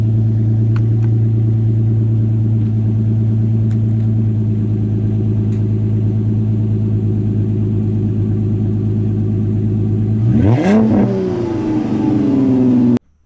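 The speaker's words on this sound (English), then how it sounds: "once it kicks down off the high idle here, I'll give it a quick little rev" A V6 car fitted with a $150 aftermarket single side-outlet exhaust, loud steady droning idle close by, then one quick sharp rev that rises and falls before cutting off.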